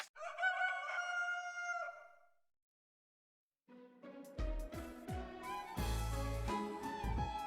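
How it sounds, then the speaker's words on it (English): A rooster crows loudly in the video game The Witch and the Hundred Knight, a drawn-out cock-a-doodle-doo alone for about two seconds, then silence before loud game music and crashing effects take over. "The damn chicken has one more cry left before it's officially over"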